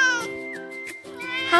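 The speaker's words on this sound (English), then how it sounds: "This kitten looks so cute." A cartoon kitten in the dress-up game Magic Paper Doll meows several times in a row, each call bright and near, with short gaps between them and no talking over it.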